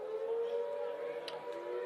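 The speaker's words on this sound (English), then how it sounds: "Siren going for the half time." Half-time siren at a Heartland Championship rugby match, a single steady wailing tone held at moderate volume with no talk over it.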